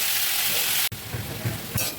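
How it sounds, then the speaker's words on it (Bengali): Steady broadband sizzle of potatoes with salt and turmeric frying in a pan, with a brief dropout and a few soft stirring knocks, no voices. "এখন আমি একটু ভেজে নেবো"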